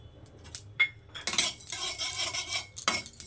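Panch phoron spices dry-roast in a kadai while a metal spoon stirs and scrapes against the pan, making close, irregular clinks and rattling scrapes with no talking.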